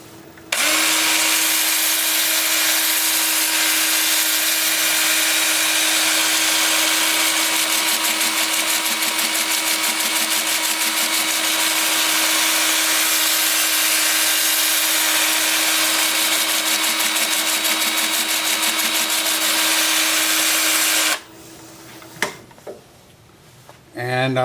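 Wood lathe spinning forward at about 360 rpm while burl bark is cleaned and smoothed, a steady high whine with constant hum for about twenty seconds, then stopping abruptly into quieter handling noises.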